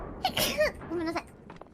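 A woman's sneeze bursts out sharply near the start, followed by a short breathy vocal trailing sound and faint exhalations, close and fairly loud.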